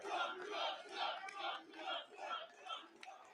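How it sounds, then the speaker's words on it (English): A crowd cheers and shouts for a speaker at a podium at a political campaign event, the roar surging and easing in steady waves at moderate distance, with no one speaking over it. "Very graciously, you let people cheer for you."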